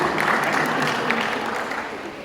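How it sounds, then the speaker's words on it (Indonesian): Steady crowd applause, dense and continuous with some voices mixed in, moderately loud throughout the short stretch. "Kita berikan tepuk tangan dulu."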